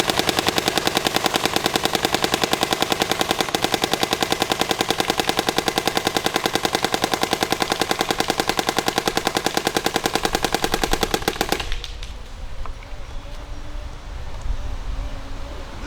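A Dye DLS paintball marker fires Valken Infinity paint in a rapid, steady stream of loud close shots for about twelve seconds, then stops, leaving quieter outdoor ambience.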